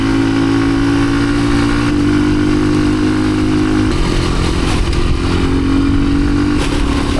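Dirt bike engine running on a mountain ride: loud, continuous close-up drone with steady low harmonics that shift slightly in pitch as the throttle changes, no voices.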